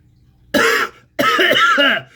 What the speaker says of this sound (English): I would cough as I was opening the beer can